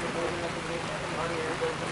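Steady rain hisses continuously on a surface outside a home studio, an even dense patter with no breaks, fairly loud and close.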